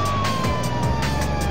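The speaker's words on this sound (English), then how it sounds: "Oh, it's a police car!" A cartoon police car siren wails continuously, steady and fairly loud, with a passing vehicle rumble underneath and no speech.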